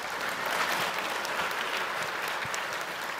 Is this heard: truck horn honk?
no